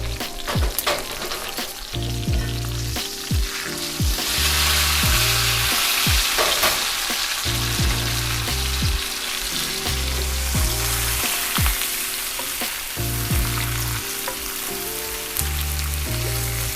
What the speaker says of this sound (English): Now I'm gonna start basting it.